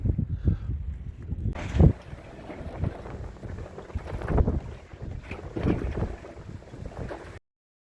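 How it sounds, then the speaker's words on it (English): A free ferry's engine rumbles as it passes by, with wind buffeting the microphone in gusts and water sounds underneath. "There goes that free ferry."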